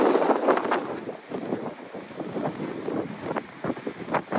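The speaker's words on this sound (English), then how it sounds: "It's so windy, I need to get out of this wind, otherwise my tent will be gone." Strong coastal wind on a beachfront in southern Portugal, a loud continuous roar buffeting the microphone in gusts, with no talk.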